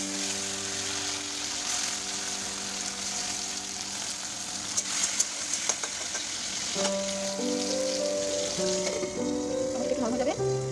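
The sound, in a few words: chopped tomatoes sizzling as they fry in a pan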